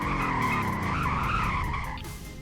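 A car in the Roblox game Greenville brakes hard, its tires skidding in a loud, sustained squeal for about two seconds before it eases off at the end.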